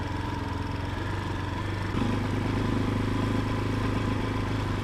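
A CSC TT250 motorcycle engine runs steadily while being ridden, a continuous low mechanical drone that steps up slightly in pitch and loudness partway through, with no talking.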